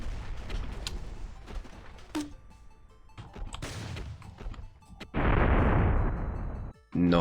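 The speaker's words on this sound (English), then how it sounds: "It looks like we got new guns. Shotgun. So I'm gonna go to some target practice here." Shotgun blasts in a video game target-practice range, a series of sharp bursts with loud sustained roar near the end, close and prominent with no talk.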